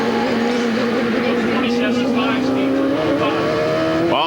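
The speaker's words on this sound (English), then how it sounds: "Robbie Gordon currently runs in 4th place on board with Robbie" Race cars at the 1995 Cleveland Grand Prix hold a loud, steady high-revving engine drone throughout, with pitch shifting as cars pass, and a commentator talking over it.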